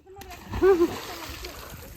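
Water splashes at a homestay as people shout and urge each other on, with a brief burst of splashing under their voices.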